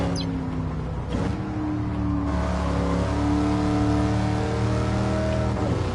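A Pontiac Firebird Trans Am V8 in Gran Turismo 7 on the Nordschleife holds a steady, loud engine drone at sustained revs, with a brief shift in tone partway through and no talking.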